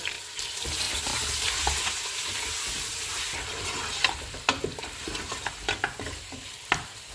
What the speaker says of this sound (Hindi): चूल्हे को फुल रखेंगे और इनको 2 से 3 मिनट तक भूनेंगे।